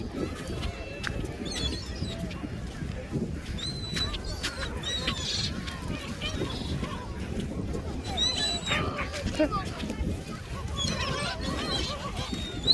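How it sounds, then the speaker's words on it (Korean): Many gulls call and squawk in a busy chorus at the seaside over a constant rushing background, with people talking now and then. "갈매기야."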